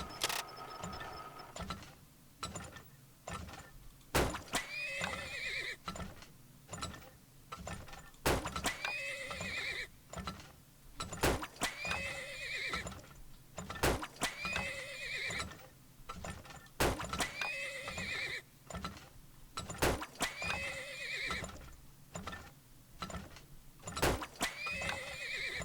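Horses in the video game Turmoil, repeated whinnies and neighs recurring every few seconds over a rhythmic clatter of hooves and clicks, fairly quiet and without talk.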